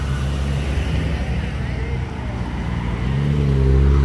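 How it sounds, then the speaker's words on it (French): Honda NSX sports car driving by on a Monaco street, engine rising in a low rumble that swells louder toward the end over steady traffic noise, with people talking nearby. "Ah mais attendez, c'est une Honda NSX qui passe."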